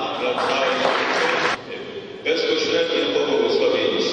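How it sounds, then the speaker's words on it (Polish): A crowd applauds a guest at an outdoor gathering, with a steady wash of clapping that dips briefly in the middle and then resumes at full strength, loud and close. "To klaski dla Pana"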